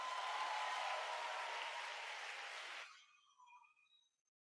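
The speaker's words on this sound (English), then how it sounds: "Give us a big round of applause." Hearty audience applause at a talk event, a dense clapping wash that holds for nearly three seconds, then breaks off into a few scattered last claps before silence.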